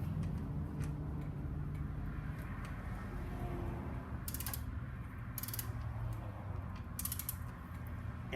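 A socket ratchet tightening the oil drain bolt on a 2003 Honda CBR600RR gives light, quiet clicking, with a few brief sharper bursts of ratcheting near the middle and end.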